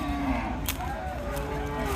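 A heavy-bodied, A-grade cow in Naogaon, Bangladesh, moos in a long, low, drawn-out call close by, with a second shorter bellow and some background noise.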